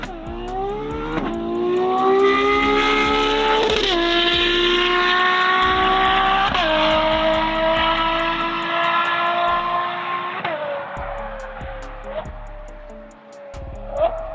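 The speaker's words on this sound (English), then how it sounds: "This V12 breathes cleaner, revs higher, and sings louder than almost anything left in the industry." A Ferrari 12 Cilindri's naturally aspirated V12, revving to 9,500 RPM, climbs repeatedly in pitch through several upshifts, each with a sharp break before building again, loud and sustained.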